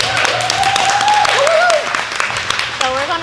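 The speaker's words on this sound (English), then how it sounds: "So one clap it up for these ladies right here." Clapping and cheering from an audience at a women's empowerment dance event panel, steady and fairly loud, with voices whooping over the claps.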